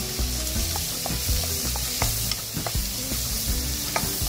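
Shrimp sauté in garlic butter with mushroom in a pan, a steady close sizzle broken by repeated scraping and stirring clicks of a utensil, with no talk.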